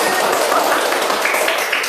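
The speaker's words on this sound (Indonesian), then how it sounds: "Iya, tepuk tangan." A classroom group applauds, steady dense clapping from many hands, close and loud for a couple of seconds before stopping abruptly.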